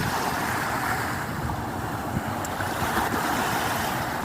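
Steady sea surf washing onto a shore, a continuous broadband roar mixed with wind noise on the microphone, with no voices.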